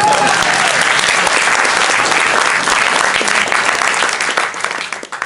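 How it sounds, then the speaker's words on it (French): Loud, dense applause from an improv theatre audience at a festival, a sustained roar of many hands clapping close by that tapers off at the end. "On peut les applaudir."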